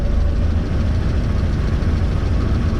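A 1938 Morris Commercial truck engine ticks over at idle outside, a steady low rumble that stays loud and even throughout with no voices.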